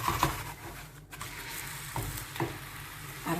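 A chicken pancake frying in a pan crackles and sizzles as it is flipped, with several sharp scraping knocks of the spatula against the pan close by.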